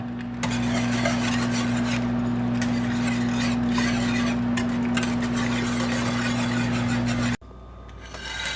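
A spoon stirs salt and pepper into a pork chop sauce in a pan with a continuous scraping, rubbing sound over a steady low hum. It stops abruptly near the end.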